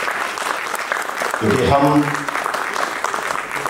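An audience at a Sikh arts and film festival event in India applauds steadily, a dense wash of clapping that runs throughout while someone speaks over it into a microphone.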